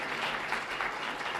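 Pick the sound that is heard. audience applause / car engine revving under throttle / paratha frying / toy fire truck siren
audience applause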